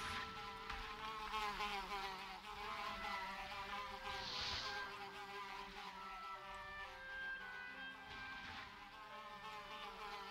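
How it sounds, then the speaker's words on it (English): A droning swarm of buzzing bugs from the game Valheim, steady and layered with tonal hums, continuing without a break at moderate volume. "It sounds like bees or bugs and roots."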